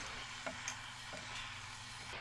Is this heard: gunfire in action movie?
no